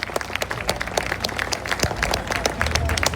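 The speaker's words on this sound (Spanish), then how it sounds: "lo hacemos con un fuerte aplauso para todos ellos y para todos ustedes" An audience at the close of a conference honouring Señor de la Misericordia breaks into dense, sustained clapping, with crowd murmur mixed into the applause.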